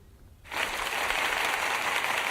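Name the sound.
audience applause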